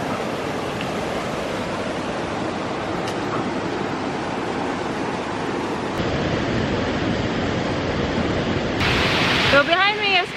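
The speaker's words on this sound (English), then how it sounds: "So behind me is kind of the mini falls of Havasu Creek." The small travertine falls of Havasu Creek give a continuous broadband rush of falling water, steady and fairly close, with a brief splashy burst near the end.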